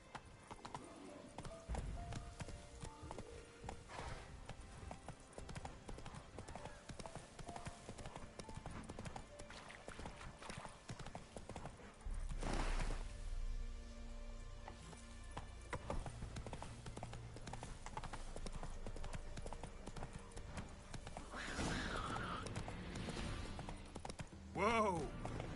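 Roach the horse gallops in The Witcher video game, a steady rhythmic clip-clop of hooves running close and loud, with game sounds and a heavy thud partway through.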